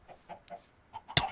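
Brief chicken clucks from a video game, a few short soft calls followed by a louder burst of squawking at the end, with no talk over them.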